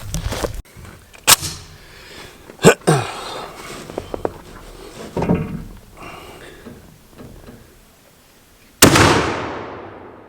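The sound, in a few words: gunshots firing slugs at a target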